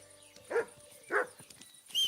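A dog in Kingdom Come: Deliverance II gives three short barks or yelps, evenly spaced and moderately close, with little else around them.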